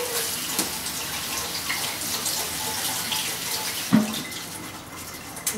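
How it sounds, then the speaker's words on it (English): Tap water running steadily in a continuous hiss over quinoa being rinsed, with a brief clunk and splash near the end, close by. "I just like to give it a quick rinse off under some water"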